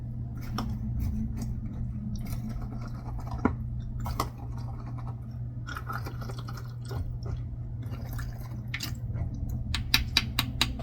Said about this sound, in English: I'm gonna take a wooden spoon and kind of mix this all up